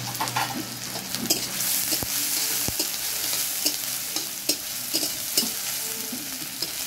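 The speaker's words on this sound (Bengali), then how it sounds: "পেঁয়াজটা এবার দিয়ে দেবো। দু চারটে কাঁচা লঙ্কাও দিয়ে দেবো।" Sliced onion and a few green chillies fry in a pan of hot oil for a bottle gourd peel dish, a continuous close sizzle broken by repeated stirring scrapes and light clinks of the utensil.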